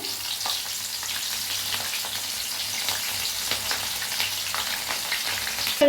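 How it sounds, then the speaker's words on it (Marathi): Garlic and green chillies frying in hot oil for corn chivda, a continuous close crackling sizzle with occasional stirring scrapes and no talking. "लसूण आणि मिरची तळून घेते"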